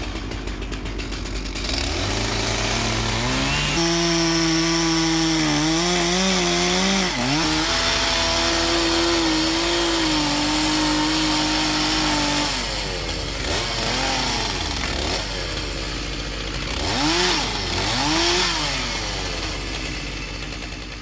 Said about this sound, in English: He's going to hold it there and buck it with the chainsaw.